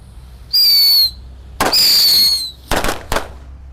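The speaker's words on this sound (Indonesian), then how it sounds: "kita nyalakan mercon tikus Thor. Ini kita nyalakan 5 biji sekaligus ya" Five whistling mercon tikus firecrackers, lit at once inside a culvert, shriek and fizz in two long bursts, followed by a few sharp crackling pops close by.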